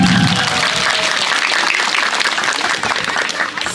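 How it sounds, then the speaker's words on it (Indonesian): A gathering at a community waste-group event in Payangan breaks into loud, close applause that continues steadily throughout, with a brief voice at the very start. "tepuk tangannya dong."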